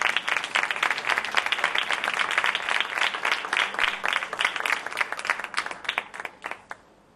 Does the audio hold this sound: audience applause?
yes